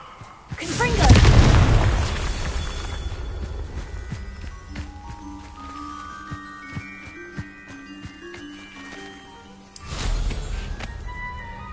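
A Confringo blasting spell going off in Hogwarts Legacy: a loud, deep boom near the start, busy game noise with light thuds and tones after it, then a second heavy burst near the end.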